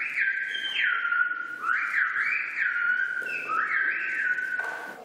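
Silbo gomero, the whistled language of La Gomera, performed by schoolchildren at the Parliament of the Canary Islands: clear, loud gliding whistles rising and falling in pitch in phrase-like bursts, continuous over a quiet background with no speech.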